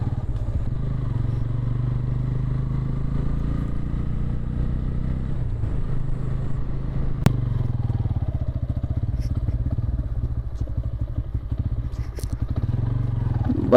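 A motorcycle ridden up to a temple and parked idles in a steady, close engine drone with a clattering chug, its pitch shifting as it slows, with faint talk in the background.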